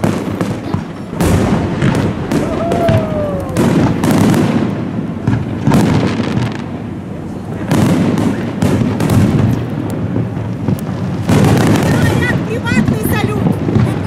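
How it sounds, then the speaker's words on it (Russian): Private fireworks display for a wedding: repeated loud booms and crackling bursts, some with rising whistles, in irregular clusters at moderate distance, with people talking over them. "Да, это частный салют. У кого-то свадьба, и в честь свадьбы заказали салют."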